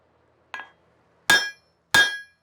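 A blacksmith strikes hot metal on an anvil while forging a dragon dagger: three ringing, bell-like hammer blows, the first lighter and the next two loud and close, each with a short metallic ring-out.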